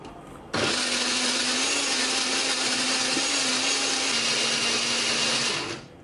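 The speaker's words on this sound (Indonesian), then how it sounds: "Kita akan haluskan menggunakan blender, beri sedikit air atau minyak goreng ya." Electric blender grinding shallots, garlic, candlenut, turmeric and ginger with a little water or oil, switching on abruptly into a loud, steady whirring hum that holds for about five seconds before winding down.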